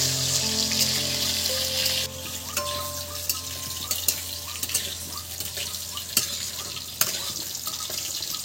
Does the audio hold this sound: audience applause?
no